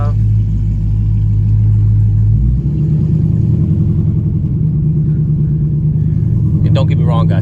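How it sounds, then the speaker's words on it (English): A 2021 widebody Scat Pack running on E85 idles loud and close, a deep rumbling exhaust with a slight rev change partway through and a voice briefly at the end. "Hope y'all can like really hear how loud this car is, because my car is on E85."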